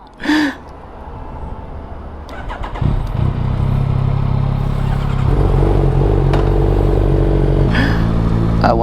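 A motorcycle without an exhaust system rumbles while being ridden, a low engine drone rising after a few clattering knocks and holding steady and loud throughout.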